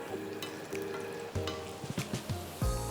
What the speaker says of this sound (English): So now for the final fry, making them nice and crispy